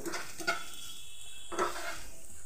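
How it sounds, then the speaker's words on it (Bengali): Chicken sandwich filling ingredients fry in a pan, a hissing sizzle broken twice by the scrape and clink of a spatula stirring against the metal, close up and without talk. "খুব ভালো করে সব উপকরণগুলো ভেজে নিচ্ছি।"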